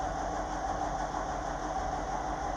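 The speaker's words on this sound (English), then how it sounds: "the engine is shaking because it's got misfires" A Ram ProMaster van's engine idles roughly with misfires, a steady low mechanical rumble with an uneven, shaky pulse, heard close up with no talking.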